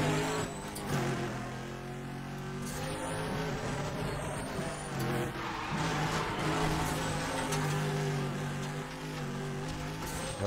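A Mitsubishi Lancer X races in Need For Speed The Run, its engine roaring and rising in pitch through repeated acceleration and gear changes, loud and continuous with game sounds layered in.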